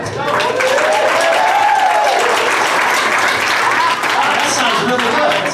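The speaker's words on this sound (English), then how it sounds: "I want to hear you applaud." Comedy club crowd at the Cleveland Funny Bone applauding loudly and steadily, with scattered cheers and whoops rising through the dense clapping.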